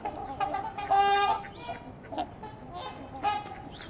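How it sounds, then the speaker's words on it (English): Herring gull calls overhead at a lakeshore, several plaintive, drawn-out cries with one long wail near the start, heard over a low background of waterfowl chatter. "I think that was a herring gull."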